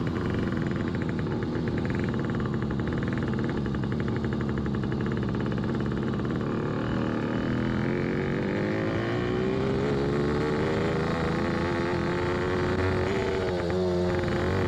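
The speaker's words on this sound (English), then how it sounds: "This is the first time this little Yamaha YCS1 has moved under its own power." A little Yamaha YCS1 motorcycle, its engine revived after decades and one cylinder firing unevenly, runs with a close, continuous buzzing drone that shifts pitch as it moves off.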